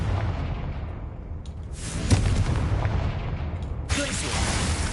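The Confringo explosion spell in Hogwarts Legacy on PS5, heard as a rumbling blast under continuous game noise, with a sharp burst near the middle and another shortly before the end.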